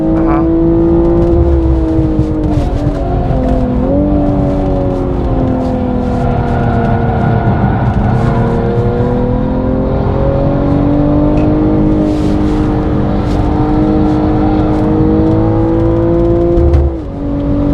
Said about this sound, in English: Sitting there just hitting like fuel cut the whole time